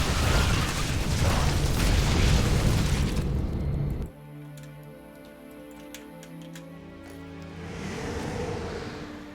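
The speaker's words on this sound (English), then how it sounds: "Wow, those cannons are not cutting it." StarCraft 2 cannons fire amid dense explosions in a Protoss versus Zerg match, a loud rumbling barrage that cuts off abruptly, leaving quieter ticking sounds and a low hum before the noise swells again.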